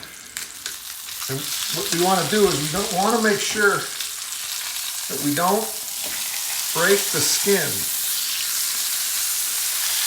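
Chicken skin hisses and crackles in a hot pan fresh from the oven, a steady close sizzle running under a voice talking throughout.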